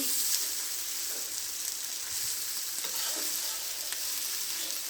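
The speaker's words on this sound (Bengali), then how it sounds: "আমি একটা একটা করে মাছগুলি উল্টিয়ে দিচ্ছি" Bata fish fry in hot oil in a pan and are flipped one by one, a steady dense sizzle with faint clinks and scrapes of the turning utensil, close and continuous.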